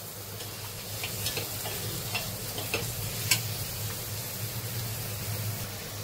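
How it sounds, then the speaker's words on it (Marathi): Onion frying in a pan on a tawa for a cluster bean (gavar) dish, giving a steady soft sizzle with faint stirring scrapes and ticks, no talking. "मी आता कांदा शिजायला टाकलेलाच आहे"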